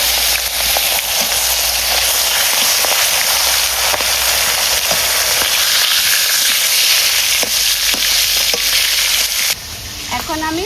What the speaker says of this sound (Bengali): এবার কাতলা মাছগুলো বেশ সুন্দর ভেজে নেব।